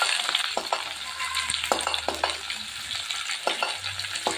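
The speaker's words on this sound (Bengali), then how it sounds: "পেঁয়াজটা একটু লাল করে ভেজে নেব" Chopped onions frying in a pan for a Bengali rohu fish curry, browned like crisp fried onions: a constant close sizzle broken by repeated light clinks and scrapes of a spatula, no voices.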